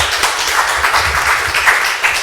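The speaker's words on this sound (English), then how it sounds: "Another round of applause for the future." Audience applause at a conference seminar: a steady, continuous wash of many hands clapping at close range, dense and even throughout with no voices breaking through.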